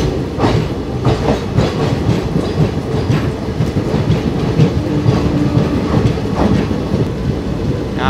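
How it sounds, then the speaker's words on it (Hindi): Railway coaches roll past near Tirupati with a loud, continuous clickety-clack of wheels over rail joints, steady and close, with no voices. "यहाँ पर एपी संपर्क क्रांति के देखो रेक्स लगे हुए हैं आपके।"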